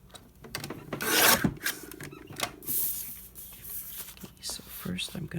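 Paper being cut for a lap book envelope, soft rasping scissor strokes in short bursts, close and fairly quiet, with a person talking quietly at times.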